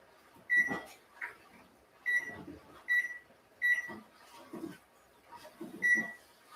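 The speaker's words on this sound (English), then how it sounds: "I had to remember how to do my microwave timer" Short electronic beeps sound in a repeating pattern, each followed by soft thumps and clicks, as a microwave timer is set while cooking brown rice.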